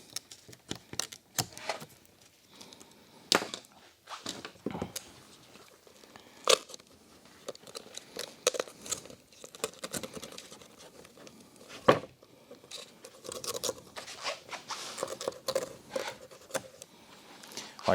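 Scissors or a blade cut out Alcantara material for BMW door panels, a long run of close, irregular snips and crisp tearing crunches with quiet gaps between, no talking.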